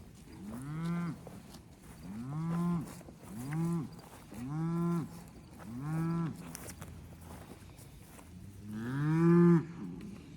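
Cattle on a farm lowing in a run of six drawn-out moos at a steady pace, close and loud, the last call the strongest, with no talking.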